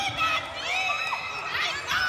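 Indoor crowd at an interlodge basketball game cheering and shouting, with high whoops and children's voices rising over steady arena chatter, lively and moderately loud throughout.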